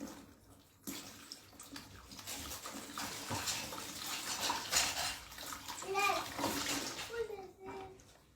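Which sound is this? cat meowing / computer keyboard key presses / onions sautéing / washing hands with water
washing hands with water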